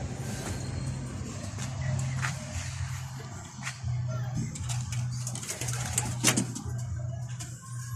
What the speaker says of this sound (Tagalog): Tingnan natin sa labas, may mga ibon ako na nasa labas guys